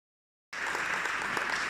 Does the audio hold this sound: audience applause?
yes